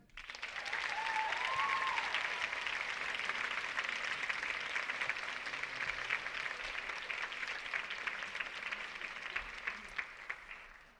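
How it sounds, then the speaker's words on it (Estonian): Sustained audience applause fills a dance gala hall at an anniversary celebration of dance education, a dense, steady wash of clapping that carries on evenly throughout without any talk. "suure aplausiga me tahaksime tänada Tormi Kotkast ja Airi Park."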